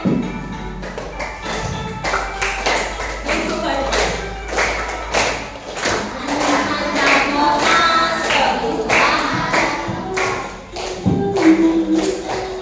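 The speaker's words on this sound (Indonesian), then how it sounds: "Yuk sambil tepuk tangan" In a classroom, a group claps along to a children's song, with steady rhythmic hand claps and thumps over voices singing together, loud and close.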